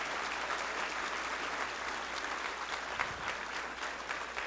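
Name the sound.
audience applauding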